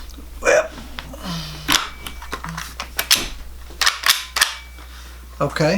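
The lever of a magazine-fed lever-action shotgun is cycled, producing a series of sharp metallic clacks and snaps scattered irregularly at close range, with some talking in between.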